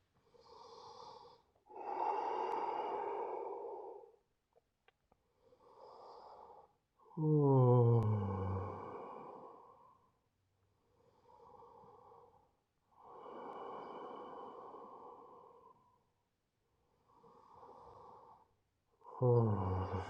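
Slow, deliberate yoga breaths in and out, heard close, with long inhales and exhales separated by short quiet pauses across the stretch.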